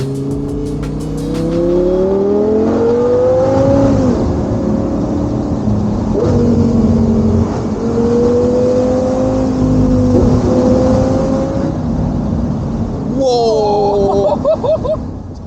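An Audi R8 GT Spyder accelerates hard on the road, its engine note rising and falling through several gear changes, loud and close throughout, with a sharp high-pitched burst near the end.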